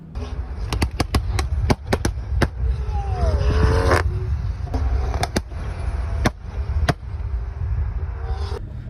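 A tuned BMW X3 M40i fitted with a downpipe crackles with a string of sharp exhaust pops over a low rumble of engine noise, loud and close.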